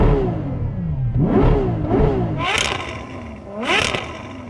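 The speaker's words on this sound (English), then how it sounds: "I'm going to rev up the Ferrari first." A Ferrari 812 Superfast's V12 revs in a series of sharp blips, rising and falling several times with a couple of louder, higher-pitched peaks, close and prominent with no talk.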